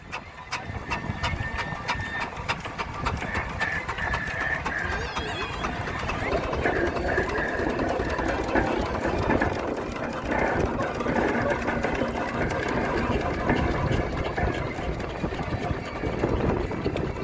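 A 1912-era style Burrell steam traction engine runs at a steam fair, its steady mechanical chuffing and clatter continuous and fairly close, with general fairground noise and voices in the background.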